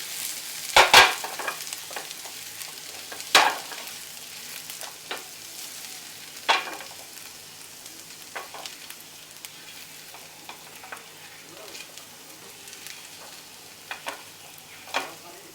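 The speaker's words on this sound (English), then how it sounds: "we're gonna add the chilies. Saute them a bit." Chilies sauté in a pan for Parsi-style akoori scrambled eggs, a soft ongoing sizzle punctuated by a few loud spatula scrapes and lighter stirring taps, with no speech.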